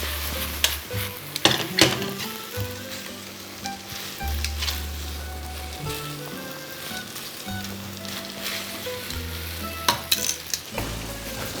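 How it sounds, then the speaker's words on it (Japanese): Pasta with bottarga, canola flowers and bamboo shoots tossed quickly in a pan with butter, giving a steady close sizzle broken by repeated scraping and stirring clatter, with no talking. "素早く絡めていく。"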